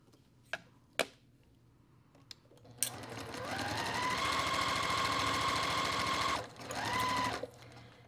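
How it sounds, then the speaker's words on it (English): A home sewing machine with a quarter-inch foot stitches a quilt block, first a few clicks and a brief whir, then a steady, close motor hum with rapid needle ticking that pauses briefly and resumes, with no talking. "So I'm gonna stitch down here."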